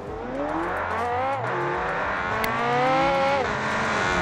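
A boxy 2023 Gol with a 150 hp AP 2.0 turbo engine in BeamNG.drive revs and drives, its steady loud engine drone rising and falling in pitch through gear changes, with no talking.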